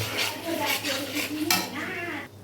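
Poppy seed paste going into hot oil in a pan, with a spoon scraping and clinking against the metal over a soft sizzle, close and brief.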